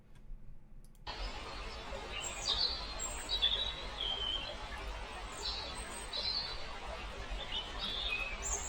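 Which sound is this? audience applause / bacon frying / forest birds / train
forest birds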